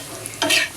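A short burst of sizzling as dried shrimp fritters fry in oil, a quick close hiss rising sharply and fading within a moment, with no voices.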